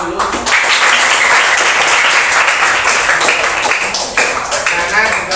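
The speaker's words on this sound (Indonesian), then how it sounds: "tepuk tangan dulu" A classroom of schoolchildren claps together in a dense, lively burst of applause lasting several seconds, close and loud, briefly dipping before picking back up.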